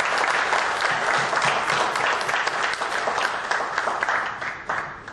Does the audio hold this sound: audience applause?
yes